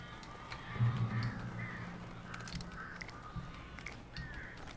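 Crows caw repeatedly in Alan Wake Remastered, several harsh calls spaced across a quiet, low-level night ambience with a faint rumble underneath.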